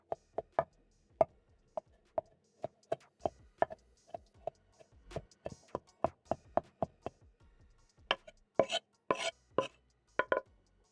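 A knife chopping coriander stems on a cutting board, a steady series of crisp, close taps that speed up into quicker clustered cuts toward the end.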